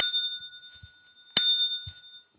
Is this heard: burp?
no